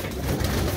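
A single short, low coo from a pigeon, a red-marked female paired with a male, sounds close and fairly loud over a muffled background.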